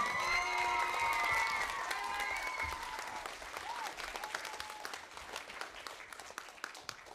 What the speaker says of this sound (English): give a huge round of applause for the 4Y teacher, Miss Jamie Yo